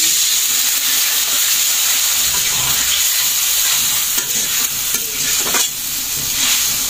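Water poured over sautéed spiced vegetables in a hot pan sets off a loud, continuous sizzle and hiss with steam, heard close up with faint stirring scrapes.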